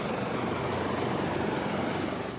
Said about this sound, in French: Hélicoptère de sauvetage 6026. Décollage imminent de la rampe de la garde côtière d'Astoria.